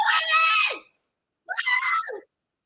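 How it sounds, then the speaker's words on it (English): Two harsh, high-pitched screams from a woman in a reality TV show, each lasting under a second and separated by a short silence, loud and close with nothing else around them. "Why she yelling like that?"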